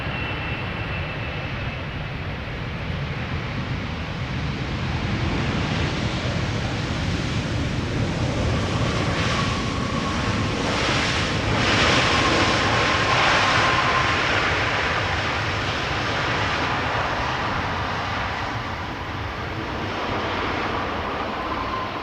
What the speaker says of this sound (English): Here it is. Emirates flight 9906.